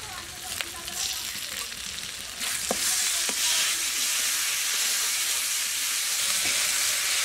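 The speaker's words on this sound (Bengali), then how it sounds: "মশলা কষানো হয়ে গেছে," Salt, turmeric, spices and cashew paste fry for a prawn curry, starting as a moderate sizzle with a few utensil knocks before jumping to a louder, dense crackling hiss that holds steady.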